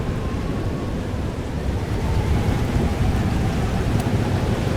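A heavy thunderstorm rages in the game Life is Strange: Double Exposure, a dense, unbroken roar of rain with a deep rumbling undertone, loud and constant throughout.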